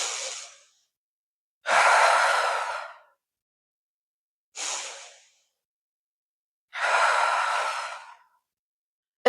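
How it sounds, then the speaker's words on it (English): Deep slow breaths taken while seated in a lotus or easy pose for a yoga and mindfulness practice: two long breathy exhales alternating with shorter inhales, close and clear, with silence between. "Take 3 grounding breaths."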